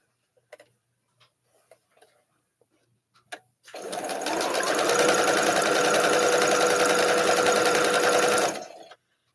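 A sewing machine runs in one steady burst of rapid, even stitching for about five seconds while piecing an Anita arrowhead quilt block, after a few soft clicks and handling sounds.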